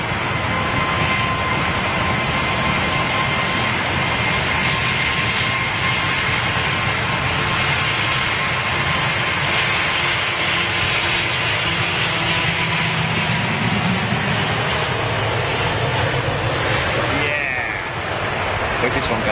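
Airliner departing Heathrow Airport at sunset, its jet engines giving a steady, loud broadband roar that fills the whole stretch, with people talking over it.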